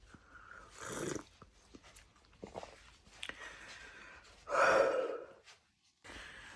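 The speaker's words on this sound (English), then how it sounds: "The dog's now crying because she wants feeding." A pet dog cries to be fed indoors at home, giving soft whines, snorts and breathy huffs, with one louder whimpering cry in the middle and quiet pauses between.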